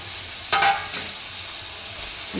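Capsicum, beans, carrot and potato frying in a pan, a steady soft sizzle with a brief louder stirring scrape near the start, no voices.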